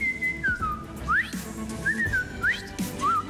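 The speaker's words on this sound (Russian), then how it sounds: "Есть такое место где-то в Испании, где люди переговариваются свистом." A person whistles a few short melodic phrases of sliding notes, separated by brief pauses, clear and close with faint background noise.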